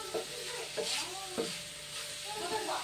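Vegetables and onions frying in a pan, a steady broadband sizzle with a few louder stirring scrapes spaced through, close and moderately loud, no talking.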